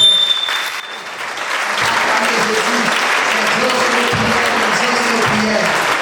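A church congregation at a worship service applauding and cheering for Jesus, steady loud clapping from a large crowd that swells and holds, with a voice speaking over it.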